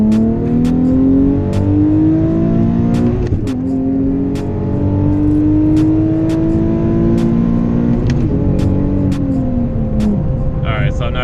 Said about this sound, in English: right now I have an ISR exhaust on the car. I did cut the resonator off though